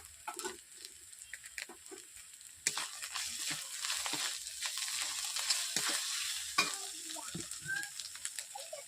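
Ground chili and turmeric sizzle in a frying pan with small eggplant, with a soft, steady frying hiss broken by intermittent stirring scrapes and taps, faint and close, with no voices.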